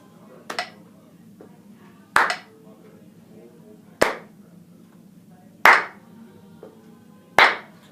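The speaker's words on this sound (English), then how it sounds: "So I'm just doing single notes and clapping on the beat." Five sharp, isolated hand claps land on the beat of a very slow metronome set to 35, evenly spaced about two seconds apart, close and dry, with faint single notes between them.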